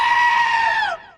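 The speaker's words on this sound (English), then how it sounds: "is it becoming a requirement that today's animated films must have a screaming goat gag?" A goat in an animated film lets out one loud, sharp, human-like scream that holds for about a second, then tails off and breaks abruptly.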